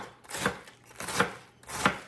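Cabbage shredded by hand with a knife for garden fried cabbage: three distinct crisp chopping strokes evenly spaced about two-thirds of a second apart, close and clear with no talk.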